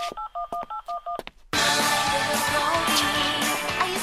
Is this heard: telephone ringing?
yes